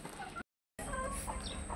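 Backyard hens, just let out in the morning, cluck softly at a distance in two short stretches separated by a brief silent gap.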